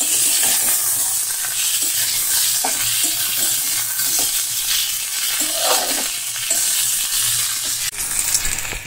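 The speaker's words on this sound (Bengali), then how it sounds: "তো দেখো আমি একটু ভালো করে সুন্দর করে পেঁয়াজটা ভাজা করে নিয়েছি।" Chopped onions sizzle steadily in hot oil, with tomato and green chili in the pan, a continuous frying hiss broken by occasional stirring scrapes and clinks, close and fairly loud with no talk.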